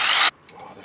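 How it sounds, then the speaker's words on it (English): A drill boring a hole, aboard a narrowboat, gives a loud, brief whirring burst that cuts off abruptly, followed by faint low clatter. "I'm drilling a hole."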